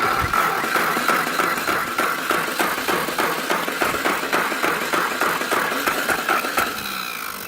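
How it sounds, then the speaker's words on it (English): A 1915-1925 Essex car engine turns over on its starter, a close, loud, rapid chugging pulse beating steadily for several seconds without settling into a clear run. "So now I'm going to turn on the ignition and we'll kick in the starter and see if it fires up."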